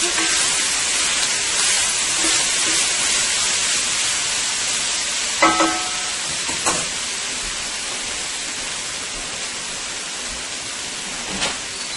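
Beef pot roast with red wine and vegetables cooking in a pan, a loud steady hiss of sizzling that carries on throughout, with a few faint clicks and pops scattered through it.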